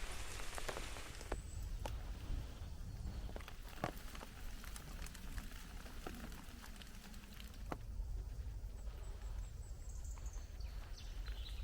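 Steady rain falling in the New Forest, pattering constantly on nearby surfaces with scattered sharper drips, fairly close and continuous throughout with no talking.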